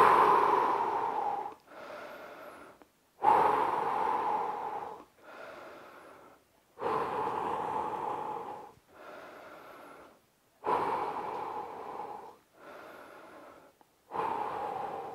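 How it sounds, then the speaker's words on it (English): Heavy, rhythmic breathing during an at-home Ramadan fat-loss workout, loud close exhales alternating with softer inhales in regular cycles about every three to four seconds, with no talking. "So let's keep breathing."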